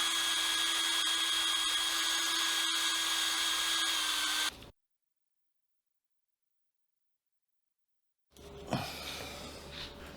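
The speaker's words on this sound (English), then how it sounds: "Okay, now I can drill." A power drill bores holes for a guitar locking nut, giving a loud, steady high whine for several seconds, then stopping dead into silence before faint handling noises resume.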